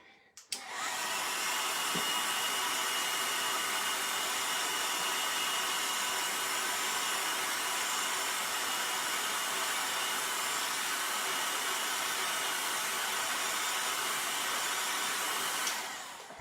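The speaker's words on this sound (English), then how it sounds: "We are gonna blow dry again." A hair dryer blows steadily on chalk paint, a loud continuous broadband whoosh that starts after a brief click and runs unbroken for about fifteen seconds before cutting off.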